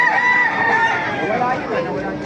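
A caged gamefowl rooster at the Baliuag tyangge market crows close and loud in a long wavering call, with people talking underneath.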